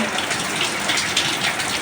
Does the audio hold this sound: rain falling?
yes